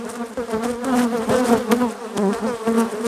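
Honey bees buzz loudly and close up inside an opened beehive during an inspection, a dense, wavering drone of many wings with shifting pitch.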